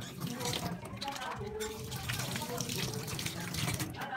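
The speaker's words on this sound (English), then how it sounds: "After using the toilet, you have to wash your hands" Tap water runs steadily throughout while hands are washed at a sink after using the toilet, a continuous broadband splashing rush with brief dips, fairly close and unbroken.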